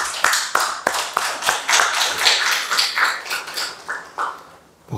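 A church congregation claps together during a Sunday worship service: a dense, loud burst of many hands in quick rhythmic beats that fades toward the end, with no talking over it.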